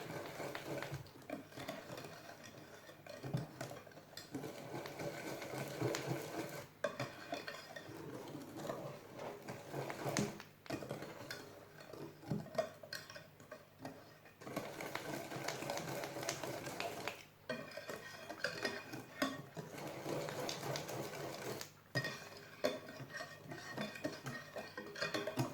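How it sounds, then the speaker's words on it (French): Egg whites with a pinch of salt being whisked in a bowl, a long run of rapid, steady clicking and tapping strokes against the bowl with a few brief pauses, close and moderately loud. "je vais faire mes blancs en neige"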